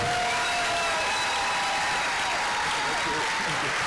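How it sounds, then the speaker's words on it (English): A crowd at a town hall gathering for Medicaid applauds steadily and loudly throughout, dense clapping with faint cheers and a few voices mixed in. "Let's give a big round of applause for him."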